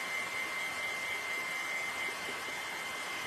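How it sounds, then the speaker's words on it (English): A small mini hair dryer runs in a steady, even whoosh with a faint high whine, fairly quiet and close, with no talking over it. "This is a mini hair dryer."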